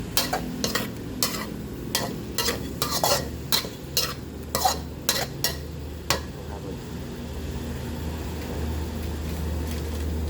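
A wok sizzles steadily as squid and shrimp are stir-fried with holy basil, while a utensil scrapes and clanks against it in irregular strokes, close up, with a low hum behind.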